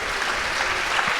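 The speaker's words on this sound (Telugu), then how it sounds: "చప్పట్లు కొట్టండి ఒకసారి" A church congregation at a Sunday worship service claps together in a dense, even, continuous patter that fills the whole moment, with no voices over it.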